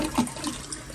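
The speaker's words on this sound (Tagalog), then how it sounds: "Flush." A toilet flushes nearby in a bathroom, a short rushing swirl of water at moderate loudness heard alone.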